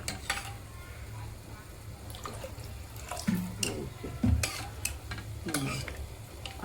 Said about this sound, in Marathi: आता याच्या मी मस्त फक्त थोडं पाणी ॲड करायचं